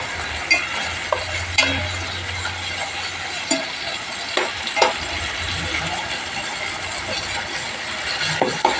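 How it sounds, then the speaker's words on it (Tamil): Tomato, ginger, garlic and onion sautéing together in a pan for a chicken dish, with a steady sizzle under repeated scraping and stirring clatter from a utensil, close by and without speech. "தக்காளியை சேர்த்ததுக்கப்புறம் இஞ்சி பூண்டு வெங்காயம் எல்லாமே ஒன்றா சேர்த்து நல்லா வதக்கிட்டு"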